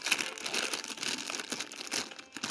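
Wrapper of a Swedish Fish candy crinkling close up in quick, irregular rustles for a couple of seconds, with no talking.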